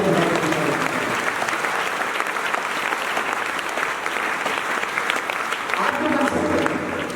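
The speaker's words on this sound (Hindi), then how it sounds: "एक बार जोरदार ताली" Loud, sustained applause from a school audience honouring selected NEET 2023 students at Saraswati school, Balwantpura, a dense steady clatter of many hands filling the whole stretch with crowd noise mixed in.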